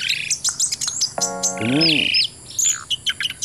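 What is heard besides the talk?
songbirds chirping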